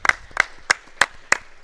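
Hand claps in a hall at a Lorcana card game tournament, six sharp distinct claps in a steady rhythm, fairly close and sparse rather than a full crowd, with no talking.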